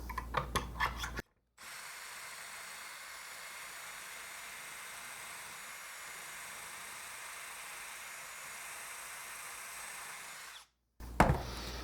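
A power drill whirs steadily into wood drilling pocket holes for several seconds, a constant grinding buzz, bracketed by brief clicks and handling noises.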